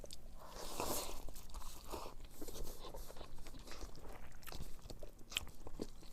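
Someone eats hot instant ramyeon noodles up close, with soft slurps, chewing and faint crunchy bites repeating at a quiet level and no talking.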